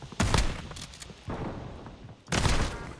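Bursts of gunfire in the video game Warzone crack out in three loud, dense volleys, separated by quieter rumbling gaps, with no talking over them.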